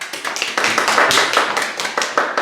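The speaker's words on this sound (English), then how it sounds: "Give him a round of applause for that." A small group claps for a speaker in a classroom-style gathering, distinct individual claps close by, brisk and uneven, lasting a couple of seconds.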